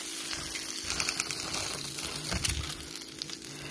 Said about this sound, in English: Now for the second fry.